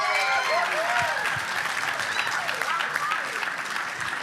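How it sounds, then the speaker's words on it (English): Audience applause at an annual charity fundraiser, a steady dense wash of clapping that holds for the full stretch at even loudness, with a few voices calling out over it. "Everyone, give a round of applause to our heads or tails model."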